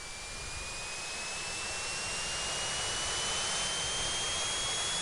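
Helicopter engine ignition in the Commodore 64 game Infiltrator, a steady synthesized turbine whine and rushing noise that climbs gradually in pitch and grows slightly louder, with no voices.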